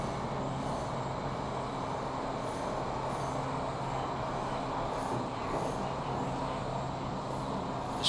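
A WMATA Series 7000 subway train runs in the OpenBVE simulator on the Red Line, with a steady, continuous rumble and hum of motors and wheels on track holding at an even, moderate level throughout.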